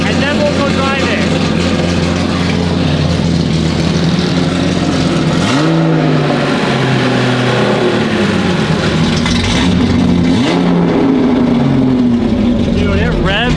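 A Datsun 280Z engine idles and revs repeatedly, the pitch climbing and falling in loud surges, close by and continuous throughout.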